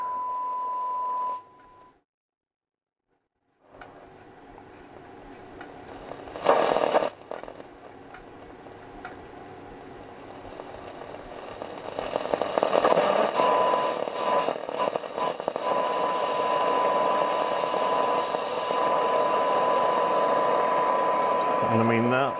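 A Hacker Marine Herald RP32 vintage radio receiver is tuned across the band, with a brief tone, then a silent gap, then rising hiss, static and shifting noise that grows louder and steadier, with a faint whistle near the end.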